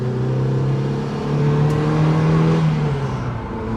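A 1.6-litre Mazda MX-5 NB engine revving loudly and close, its steady droning tone rising slightly in pitch through the middle and then easing back, with no talking over it.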